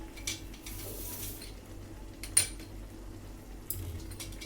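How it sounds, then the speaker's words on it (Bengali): A spoon mixing cumin powder into a prawn curry with bottle gourd, giving a few faint clinks and scrapes against the pot over a low background hum. "সব দিক দিয়ে ভালো করে মিশিয়ে নেব।"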